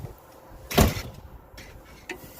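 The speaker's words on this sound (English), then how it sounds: "that's my screen door" A screen door swings and bangs shut once with a sharp thud, followed by a faint lighter knock, against a windy background hiss.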